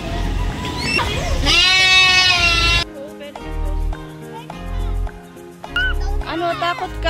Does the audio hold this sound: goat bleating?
yes